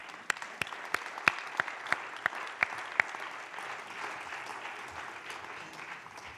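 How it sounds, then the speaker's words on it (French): An audience at a conference claps in a light, fairly faint round of applause, with a few sharp, distinct claps standing out early before the sound thins into a scattered patter. "Je crois qu'on peut vous applaudir."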